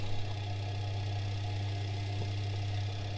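An automatic washing machine motor spins up to start turning the drum during a repair, giving a steady loud hum with a strong low drone, faint knocking and vibration throughout and no talk.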